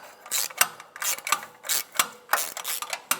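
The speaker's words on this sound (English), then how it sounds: "I got a wrench on there, holding the mounting nut at the top, snugging up the bolt." A wrench ratcheting on a catalytic converter mounting bolt of a 2008-2012 Jeep Liberty 3.7L V6, giving close, repeated clicking strokes in an irregular rhythm, alone without talk.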